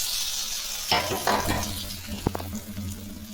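A sudden hiss and crackle as hot tempering is poured into boiling sambar, settling into a steady sizzle and bubbling with a few sharp pops.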